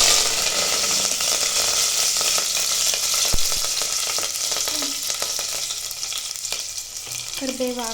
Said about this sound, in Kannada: ಇವಾಗ ನೆಕ್ಸ್ಟು ಈರುಳ್ಳಿ ಮತ್ತು ಟೊಮೊಟೊನ ಹಾಕ್ತೀನಿ. ಮತ್ತು ಕರ್ಬೇವಿನ ಸೊಪ್ಪನ್ನು ಹಾಕ್ತೀನಿ.